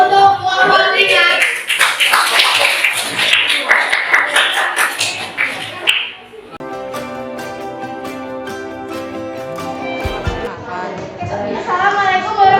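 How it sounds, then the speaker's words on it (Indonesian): A classroom group gives applause for a presenting team, a dense burst of clapping for about six seconds that cuts off, followed by a sustained tonal musical sound to the end. "Supaya semangat, beri aplaus untuk kelompok 5."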